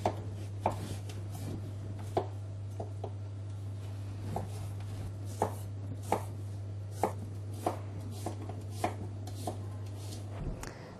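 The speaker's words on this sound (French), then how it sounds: "Nous allons faire des lanières pour la couper en petits cubes." A knife chops a vegetable on a board into strips and small cubes, with sharp, evenly spaced cuts over a steady low hum, no talking.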